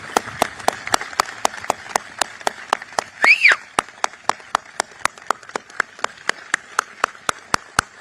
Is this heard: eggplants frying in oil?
no